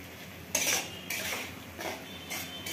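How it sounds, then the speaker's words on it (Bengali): A spoon scrapes and clanks against a pan while stirring onion masala curry, four separate bursts of metallic scraping, close and fairly clear against a quiet background. "এখন এগুলোকে ভালো করে মিক্স করে নেব"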